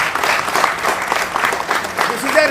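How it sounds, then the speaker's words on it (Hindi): A crowd bursts into loud, sustained applause at a street-naming ceremony for Dr. B.R. Ambedkar Way in Woodside, New York, with dense clapping close by and some voices mixed in. "जोरदार तालियां।"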